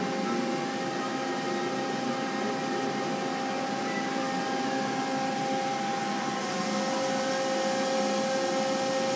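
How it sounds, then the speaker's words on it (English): A lathe spindle spins a Chung Yang GP460 flywheel, giving a steady whirring hum with constant tonal whine, unchanging and continuous, no voices. "And then what we're gonna do is turn the spindle on."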